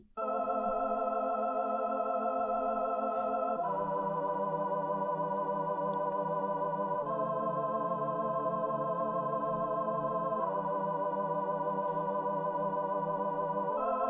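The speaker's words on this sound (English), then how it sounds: "Next up, we have the Synth Keys, also by Pigments, Arturia Pigments, and we're using the roller preset." Synth keys from Arturia Pigments on the roller preset with a strumming effect, playing sustained smooth chords that shift every few seconds, steady and clear with no voices.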